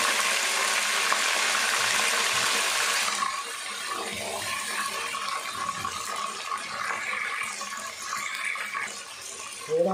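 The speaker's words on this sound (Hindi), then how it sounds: "थोड़ा सा पानी शामिल करूंगा।" Water is poured into a cooking pot of mutton paye after the garlic-ginger paste, a steady rushing pour for about three seconds, then softer splashing and bubbling as the liquid settles.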